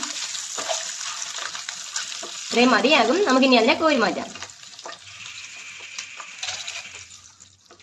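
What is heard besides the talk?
eggs frying in oil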